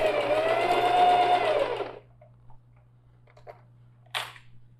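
A sewing machine runs in one steady, close burst about two seconds long as it stitches a thick lining seam on a backpack, followed by quiet handling clicks and a sharp snap.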